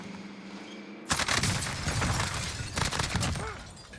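Enemy gunfire in the Warzone video game opens abruptly after a quiet second, a loud, dense sustained burst of rapid shots that continues steadily to the end.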